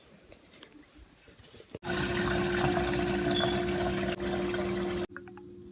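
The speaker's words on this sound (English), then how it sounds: "that was the water when I poured it in there" Water from a dispenser pours into a cup in one steady, loud, close stream lasting about three seconds, with a brief dip midway, framed by quiet room noise before and after.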